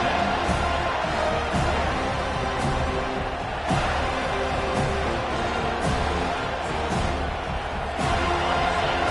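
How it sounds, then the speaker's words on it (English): A football stadium crowd at a college game roars loudly and continuously, with swells of cheering and sharp bursts, all carried as a dense wall of noise. "This crowd, full throat, spreading the eardrums and letting them know it's going to be a long day."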